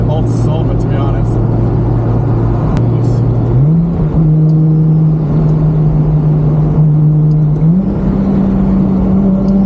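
A 500HP RB25-powered Nissan S15 runs with a steady low engine drone that steps up in pitch twice as revs rise, loud and continuous with talk over it early on.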